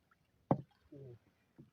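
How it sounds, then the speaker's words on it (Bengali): A wooden boat is rowed across water: a single sharp oar knock, then a soft swishing stroke and another faint splash, quiet and sparse with near silence in between. "এই যে নৌকা কিন্তু আমি চালাইছি"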